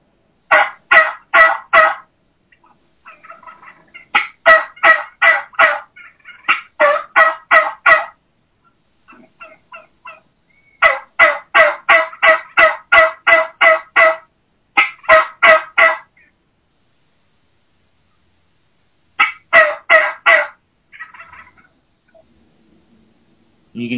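Slow, low hen turkey yelps from a hand-operated turkey call, imitating an old mature boss hen in spring hunting. Loud and close, the calls come in several rhythmic runs of raspy notes separated by silent pauses.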